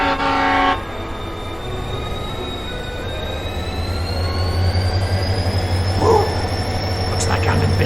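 A train pulls out of a depot in a video game, with a steady low rumble of moving cars, a long rising horn-like whistle tone, and a brief clank of wheels near the end.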